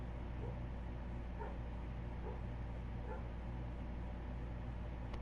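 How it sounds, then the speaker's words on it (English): A big dog barks faintly in the distance, four or five spaced woofs beneath a steady low hum. "Why does it sound like there's a dog barking?"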